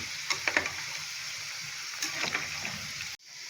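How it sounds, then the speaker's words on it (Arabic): Potatoes fry in a pan with a soft, steady sizzle, broken by a few quiet scrapes and clinks as they are stirred, then cut off abruptly near the end. "وهبدا بقى دلوقتي اقلب البطاطس"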